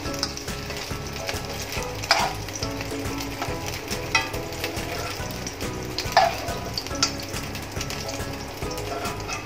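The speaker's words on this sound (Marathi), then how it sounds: "हे दुसरे पण असे शॅलो फ्राय करून घेऊया" Paneer shallow frying in a pan makes a steady, busy sizzle with crackling pops throughout, with a couple of louder metallic knocks from a utensil.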